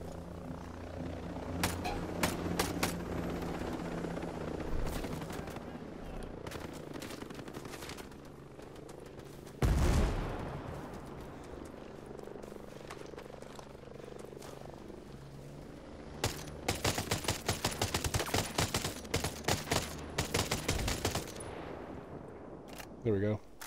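Gunfire in Ghost Recon Breakpoint, with scattered single shots and later rapid bursts of automatic fire, fairly faint and mixed into game ambience while people talk.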